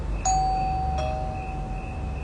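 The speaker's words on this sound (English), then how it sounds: "ring the doorbell" A single electronic chime rings out, a bright tone with a sustained ring that fades slowly, followed by a faint second strike, over quiet background hiss.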